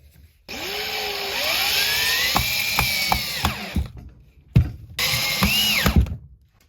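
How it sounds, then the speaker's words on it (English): A power drill drives screws into a wooden Christmas stocking stand, running in two bursts with rising whine and several sharp clicks, close and loud with no talk. "now we're gonna attach two screws from this side"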